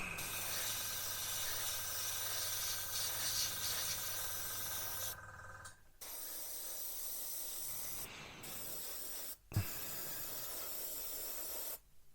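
An airbrush sprays paint onto a Hobby Boss M1070 and M1000 Oshkosh HETS model truck, making a steady close hiss that cuts off and restarts in several bursts, with no talk.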